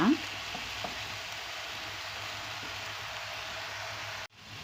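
A vegetable and mushroom mixture sizzles in a pan as it is stirred, a steady frying hiss that begins with a brief scrape and cuts off abruptly near the end.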